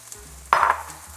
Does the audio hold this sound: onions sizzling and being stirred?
yes